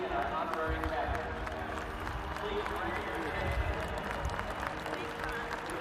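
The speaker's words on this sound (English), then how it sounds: "Let's give a round of applause and encouragement for Tylee and our honorary captain." Stadium crowd applauding and cheering wide receiver Tylee Kraft and an honorary captain at a college spring football game, a steady wash of clapping and crowd noise throughout with an announcer's voice over it.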